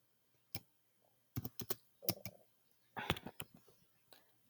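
Typing on a computer keyboard: scattered bursts of sharp key clicks, some single taps and some quick clusters, fairly close but soft in an otherwise quiet room.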